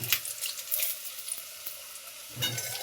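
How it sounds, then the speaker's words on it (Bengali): Raw banana kofta balls frying in hot oil, a soft steady sizzle with faint bubbling and a brief stir, close by with no voices. "আলতো আলতো করে গড়িয়ে ভেজে নিয়ে তুলে নিতে হবে"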